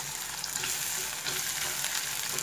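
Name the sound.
onions frying in hot oil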